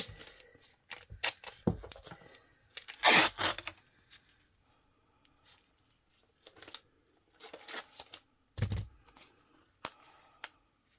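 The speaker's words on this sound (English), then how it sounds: "I'm just going to use this masking tape right here." Masking tape being pulled and torn from the roll, several short crackling rips and scrapes with quiet gaps between, close and clear with no talk.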